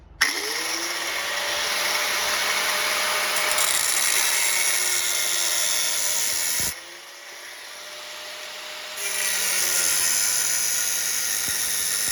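Power grinder cutting into a stock Triumph Bobber exhaust silencer, a loud continuous whine with harsh metallic rasp that drops out briefly and then resumes, close up with no talk.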